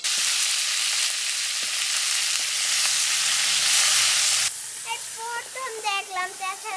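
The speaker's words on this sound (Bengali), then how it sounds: "এটা তেলে একটু হালকা ভাইজে নিলা?" Cauliflower for a Bengali-style roast frying lightly in hot oil, a steady dense sizzle for several seconds that drops away abruptly, followed by quieter crackling with brief chirpy spatters.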